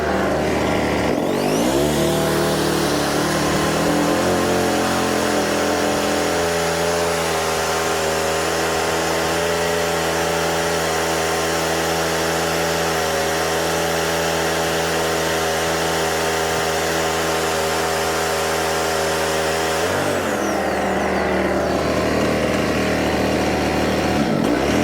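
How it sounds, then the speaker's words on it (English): A Coleman Ultimite portable generator runs steadily and loudly at close range, its engine settling into a constant droning hum with strong low harmonics after starting up, then cutting off near the end. "What a cool little generator."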